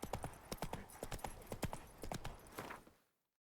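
Roach the horse in Witcher 3: Blood and Wine gallops at speed, a close, brisk run of rhythmic hoof clops that stops sharply after about three seconds.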